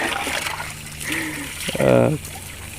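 Water sprayed onto fresh concrete to cure it on a home construction site: a spell of hissing splashes that builds into a louder burst near the end, with someone talking over it.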